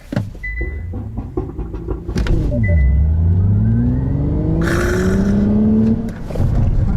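A Hyundai Ioniq 6 N electric car launches hard, its motor whine rising steadily in pitch as it accelerates, loud and close, with a brief whoosh partway through.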